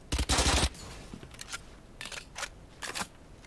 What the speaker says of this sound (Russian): Единственное, кто мне хорошо стрелял, это Феникс.